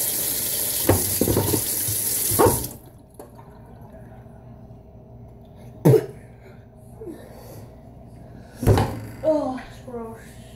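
A running sink tap washing an item, with a steady hiss of water for a couple of seconds that then stops, followed by a few clunks and brief voices nearby.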